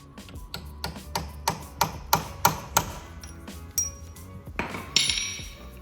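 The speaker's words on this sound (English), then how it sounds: "That's an auto punch Sam's trying to use." Automatic center punch and hammer striking metal to mark a drill spot on a diesel-swapped 240Z, a series of sharp metallic taps in an uneven rhythm, close and clear with no talking.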